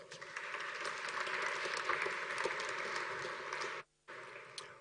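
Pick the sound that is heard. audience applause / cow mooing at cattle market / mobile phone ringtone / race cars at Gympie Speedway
audience applause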